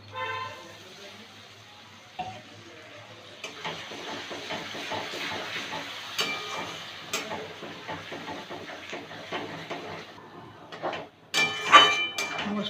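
Chicken masala with turmeric frying down in a pan, giving a soft steady sizzle and hiss with a few scraping stirs, faint and close, swelling louder near the end.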